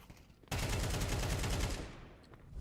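Counter-Strike gunfire during a tournament match, a loud sustained burst of rapid automatic shots lasting over a second, then fading into a quieter game background with no talk over it.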